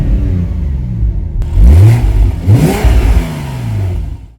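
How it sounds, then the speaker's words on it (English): A Porsche 911 3.8 Carrera 4S flat-six fires up close by, an opening whir giving way to a loud rising revving burble that swells twice before settling into a lower idle. "On start-up, the car will burst into life and give that lovely flat six burble."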